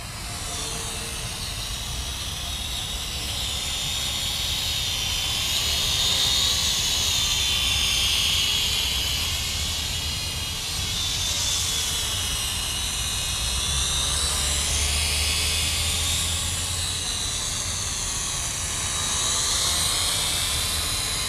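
A DROCON Cyclone X708W quadcopter drone flies steadily at top speed in light wind, giving a continuous high-pitched whining buzz of propellers that swells and eases slightly, close and loud with no talking.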